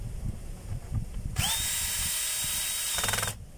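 Power drill driving in a screw during an armature gear replacement, a sharp close whine that starts abruptly, holds steady for about two seconds and then stops, after some quiet handling sounds.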